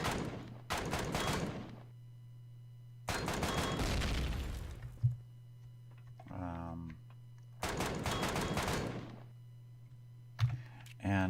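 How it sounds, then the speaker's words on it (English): Gun turrets in a multiplayer fortress-attack video game firing short bursts, several quick clustered shots standing out between stretches of broadband noise and talk, moderately loud. "the gun turrets, they shoot a burst, they don't rip you to ribbons like they normally do"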